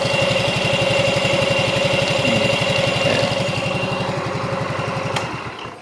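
Yamaha X Ride scooter, freshly serviced after a compression-loss fault, idles smoothly and steadily up close with an even low putter, then quiets slightly near the end.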